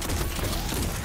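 Rapid gunfire from weapons in the shooter game Destiny 2, a dense continuous burst of shots filling the whole moment with no talking over it.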